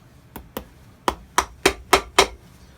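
Seven sharp hammer strikes drive 5/8-inch threaded nails into the heel base of an Allen Edmonds shoe during a restoration. The blows are close and loud, irregular at first and then quicker and harder toward the end.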